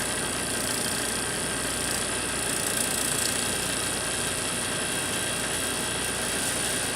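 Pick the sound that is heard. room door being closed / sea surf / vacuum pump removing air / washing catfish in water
vacuum pump removing air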